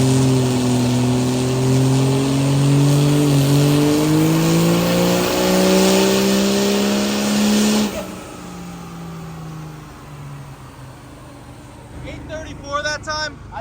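A hood-stacked Cummins diesel truck engine revs hard and loud with a rising drone for about eight seconds, then drops back to a rougher idle-like rumble, with people talking briefly near the end.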